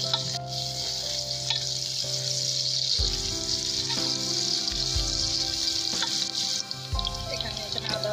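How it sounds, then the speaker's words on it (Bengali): Onions with cardamom and cinnamon frying in oil in a wok: a steady bright sizzle runs throughout, with low thumps and scraping stirs at intervals as the pieces are moved around. "পেঁয়াজটার সাথে আমি দিয়ে দিচ্ছি 4টে এলাচ, 2টা দারচিনি দিয়ে এগুলোকে ভালো করে ভেজে নেব"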